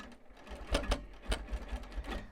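A long arm quilting machine stitches binding onto a quilt, its needle giving a quick run of rhythmic mechanical thumps and whirs, close and fairly quiet.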